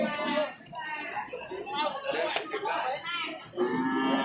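Peranakan Ongole cows and calves at a Friday cattle market in Jatirogo, Tuban, East Java. Their lowing and moos come through busy crowd chatter and voices nearby.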